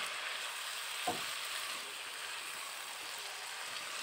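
Tawa chicken frying in hot oil gives a steady, soft sizzle with a faint high hiss, broken once by a brief stir or scrape of the pan.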